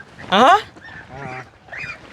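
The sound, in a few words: frightened ducks honking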